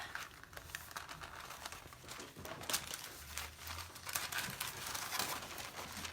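Paper being peeled up from a Mod Podge candle, soft crinkling and tearing rustles that come close and faint, with a few louder crackles and a low background hum; no talk.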